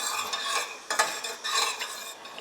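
A spoon stirs quick oats in a pot of boiling water seasoned with cinnamon and salt, making close, rhythmic scraping and swishing strokes with a few sharper clinks against the pot, with no talking.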